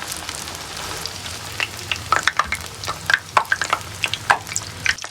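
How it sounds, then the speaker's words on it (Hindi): Kebabs frying in a pan make a close, crackling sizzle, with scattered sharp pops and spits that grow busier and louder in the second half, with no voices. "ये मैंने एक चम्मच से उठाया और इस पे रखा और इसे इस तरह फ्राई कर लिया"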